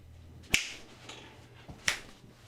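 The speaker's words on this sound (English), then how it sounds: "I like snapping my fingers too." Two sharp finger snaps about a second and a half apart, close and crisp against a low background hum, with no talking.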